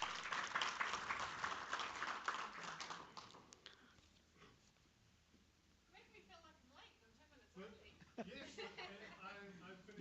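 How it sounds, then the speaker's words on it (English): Brief applause from a seminar audience welcoming a speaker, loud for the first few seconds then fading out, followed by quieter shuffling and a voice talking. "Let's give her a round of applause."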